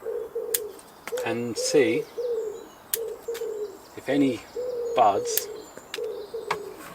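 A pigeon coos repeatedly in soft, low hooting phrases nearby outdoors, while someone talks over it.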